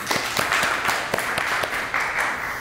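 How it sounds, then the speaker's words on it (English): Hands clap in a quick, steady rhythm, about a dozen sharp claps over a few seconds, fairly close and alone in a quiet room during a yoga session. "Claps."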